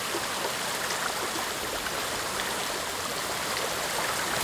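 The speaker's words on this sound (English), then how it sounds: "The water sounds so pretty" Steady rushing water in Ghost of Tsushima on Iki Island, a continuous full stream or small waterfall flowing evenly and fairly loud, with no talk over it.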